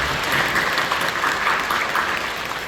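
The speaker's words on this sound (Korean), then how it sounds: "박수를 주십시오." Congregation in a church giving sustained applause, a steady wash of clapping from many hands that fills the room evenly for several seconds.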